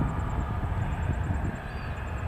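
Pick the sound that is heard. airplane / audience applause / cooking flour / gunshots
airplane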